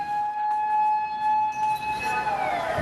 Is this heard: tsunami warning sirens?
yes